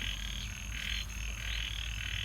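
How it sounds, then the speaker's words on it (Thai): A frog croaks in a garden pond on a rainy morning, with steady rhythmic pulsing calls over a constant high-pitched outdoor drone. "มีกบมาอีกแล้ว"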